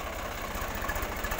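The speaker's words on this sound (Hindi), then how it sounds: "ये देखिए दोस्तों, स्वराज 855, क्या पावरफुल ट्रैक्टर।" A Swaraj 855 tractor, a 55 HP machine, idles steadily up close, its low, even engine rumble running continuously without any talk.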